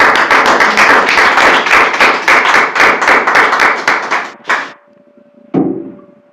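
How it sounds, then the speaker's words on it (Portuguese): A church congregation claps in a loud, rhythmic run of sharp, close hand claps at a steady beat, then the clapping thins out and ends, with a short final burst after a pause. "Quem pode dar uma salva de palmas, Senhor?"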